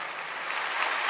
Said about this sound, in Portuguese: Vamos aplaudir Jesus agora